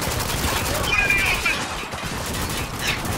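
Heavy gunfire rattles in the shooter game Spec Ops: The Line, a dense, loud burst of continuous shots and impacts that fills the whole moment with no break.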